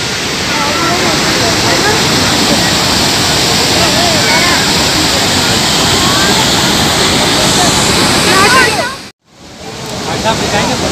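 Dhuandhar waterfall at Bhedaghat near Jabalpur roars in a loud, continuous, broadband rush of falling water that briefly cuts out near the end, then resumes.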